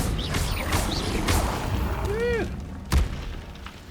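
A fire spell cast in the Hogwarts Legacy video game gives off a rising whoosh and a swelling burst among busy game effects, ending in a sharp thud.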